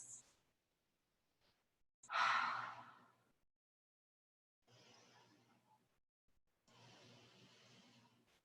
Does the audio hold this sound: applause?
no